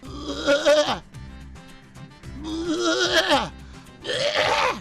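A voice imitates a goat bleating in three wavering, nasal bursts of rising and falling pitch, loud and close, with short quiet gaps between them.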